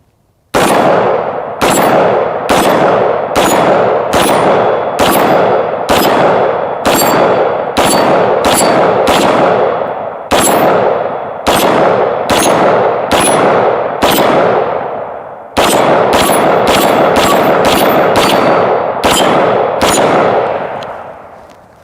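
Rapid, evenly paced rifle shots of 5.56 mm incendiary rounds strike steel plates, each a very loud, sharp crack with a ringing clang, about twenty in steady succession with a brief pause midway, and no talking.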